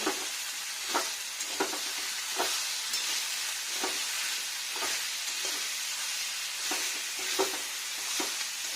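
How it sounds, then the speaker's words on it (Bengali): Vegetable curry frying in a pan as salt is stirred in, a steady close sizzle broken by regular scraping strokes of the spoon roughly every second, with no talk. "লবণ দিয়ে নাড়া দিলে না কি সুন্দর ভিতর পর্যন্ত লবণটা চলে যায়।"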